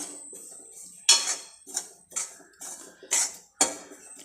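A spoon scrapes and clinks against a pan while spices are stirred for jackfruit theeyal, giving sharp irregular metallic strokes with short pauses between them.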